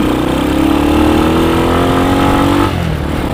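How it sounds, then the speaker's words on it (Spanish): A motorcycle engine during a ride through Guadalajara streets, loud and close with a steady droning hum that rises in pitch as it accelerates, then drops off near the end, with wind rush and no talking. "vamos a aprovechar para dar un rol en la moto"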